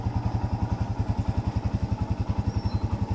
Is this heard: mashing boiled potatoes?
no